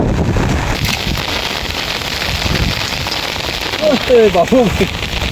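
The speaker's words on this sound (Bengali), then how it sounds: "এই দেখেন কি বৃষ্টির বৃষ্টি নামতে আছে অনেক অনেক বৃষ্টি" Heavy rain pours steadily and loudly in a dense wash of noise, with wind buffeting and a voice briefly speaking near the end, during fishing with a trap.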